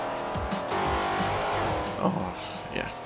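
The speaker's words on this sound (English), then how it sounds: "Sounds of more V8 muscle. You can hear the cars on the other side of the track." Rumbling V8 muscle car engines in a racing video game roar and rev as the cars pass, tires squealing briefly, with the sound swelling and fading at a moderate distance.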